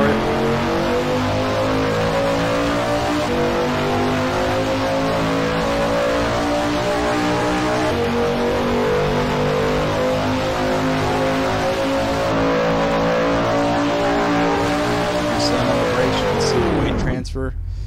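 Car engine in the Drift Crew driving game held at full throttle, a loud, steady, close revving drone that holds for many seconds before the pitch suddenly drops away at the end.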